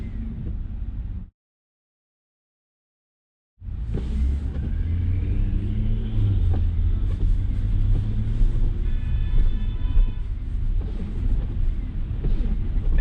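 Road rumble and tire noise inside a Tesla on Full Self-Driving (Supervised) v13.2.7 changing lanes, a steady low drone with a short silent gap near the start, no talking.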